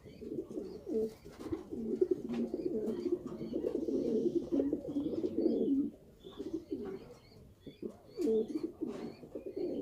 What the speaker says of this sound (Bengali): এটা হলো জার্মানির কবুতর